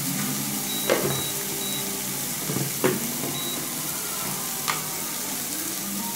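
Turmeric powder frying in a pan for a paneer dish, giving a steady, soft sizzle with a few faint clinks and scrapes of stirring, close and fairly quiet.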